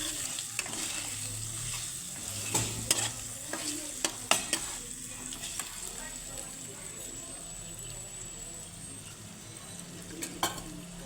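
Cabbage curry being sautéed in a pan with ginger paste, cumin, coriander, turmeric and chili powders, a steady sizzle broken by sharp scraping stirs and clinks of a spatula against metal, close up.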